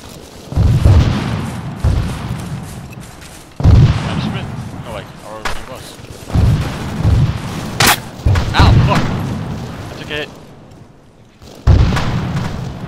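Heavy gunfire and booming impacts from the military shooter game Arma 3, with loud, deep thumps recurring every second or two and sharp cracks between them, close and dominant, while voices talk over the shooting.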